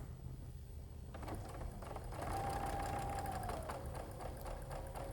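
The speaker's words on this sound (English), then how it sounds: "Go back to the sewing machine one last time with this piece." Sewing machine stitching quilt pieces for a baby quilt, starting up after a quiet moment and running in a steady fast mechanical whir with a rising motor hum, close and moderately quiet.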